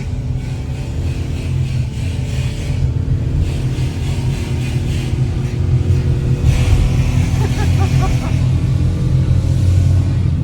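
A rental car's engine labours as it climbs a steep mountain road toward thermal baths in Albania, a loud, continuous low drone that strains and rises slightly in pitch throughout.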